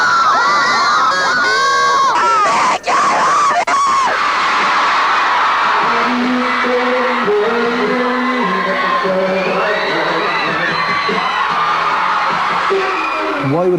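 Crowd of girls screaming and shrieking in a sustained, loud, high-pitched roar as a five-member Irish boy band walks out onto the stage, the cheering rising and falling without letup.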